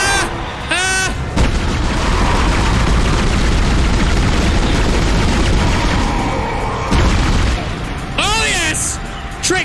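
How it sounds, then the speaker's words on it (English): Gunfire and heavy booms in the sci-fi horror video game Dead Space fill a dense, loud stretch of combat noise, with tonal game effects near the start and end and a player talking over it. "Shots. I'm out of bullets on that one."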